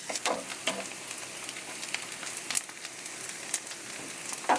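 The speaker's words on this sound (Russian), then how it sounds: "Теперь добавляю лук. Обжариваю до легкого золотистого цвета." Chopped onions sizzling and crackling in a hot frying pan, browning to light gold, a soft steady fry with sharp pops and spits scattered throughout.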